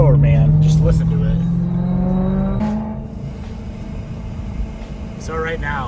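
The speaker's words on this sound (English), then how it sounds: "it's just non-stop air rushing out of that BOV" A supercharged car's blow-off valve releases a steady, continuous rush of air over a loud engine drone and a rising supercharger whine. The whine fades partway through while the rushing and rumbling carry on.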